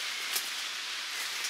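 Steady rain falls in a forest while mushrooms are gathered, a soft continuous hiss of drops on leaves at moderate loudness, with no talk.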